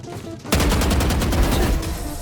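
Gunfire in the shooter game Valorant bursts in after a quiet half second, a loud rapid string of shots that fills the rest of the short clip.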